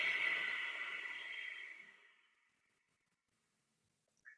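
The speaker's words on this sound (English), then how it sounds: "this is Ujjayi breath, or like an ocean breath" A single slow Ujjayi ocean breath drawn through a closed mouth, a raspy, hollow Darth Vader-like hiss that starts close and fades away over about two seconds, followed by silence and a brief faint click.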